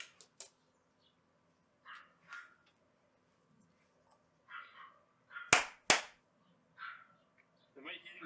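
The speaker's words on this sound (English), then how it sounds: "the dogs are playing outside. No, it ain't my dog. It's a dog in the distance." Dogs bark outside in the distance, a handful of scattered, sharp bursts with quiet gaps between them, faint and far off apart from two louder, closer barks partway through.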